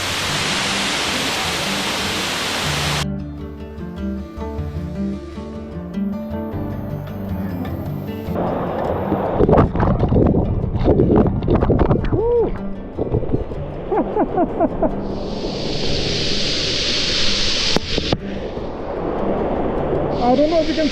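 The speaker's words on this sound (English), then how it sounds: "Waterfalls there, and 1, 2, 3, 4 tiers." Synrangkhit Waterfalls, a four-tier waterfall, gives a steady broadband rush of falling water that grows louder partway through, overlaid with wind buffeting the microphone and a brief passing tonal sound.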